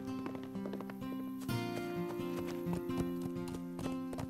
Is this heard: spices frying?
no